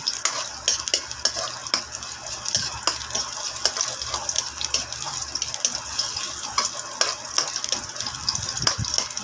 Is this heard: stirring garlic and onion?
yes